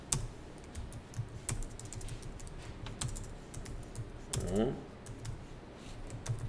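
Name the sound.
typing on a computer keyboard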